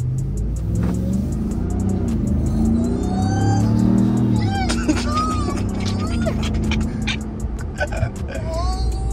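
A supercharged Ram TRX pickup truck's engine revs and accelerates from inside the cab, a steady loud rumble throughout with voices talking over it.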